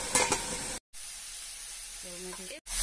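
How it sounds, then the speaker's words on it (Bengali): Eggplant fries in a pan in a little oil, giving a continuous soft sizzle broken by two brief silent gaps, with a faint tonal sound near the end. "বেগুনটা অনেকটা ভাজা হয়ে গেছে"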